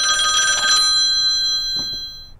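A telephone bell rings loud and close in one bright, sustained burst. It stops, leaving a ringing tone that fades away, and a faint voice follows.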